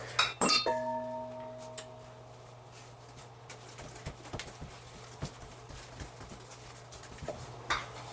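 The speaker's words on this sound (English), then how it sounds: "So I'm going to use the whisk." A whisk working through a flour and milk cake batter in a bowl, with a ringing clink at the start followed by scattered light taps and scrapes against the bowl.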